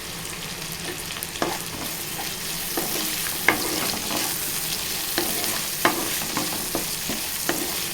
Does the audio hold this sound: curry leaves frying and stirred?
yes